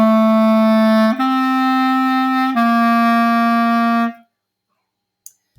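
A solo clarinet plays a slow, sustained melodic passage of three held notes stepping one into the next, clear and close, then stops, leaving near silence with a faint tap at the end.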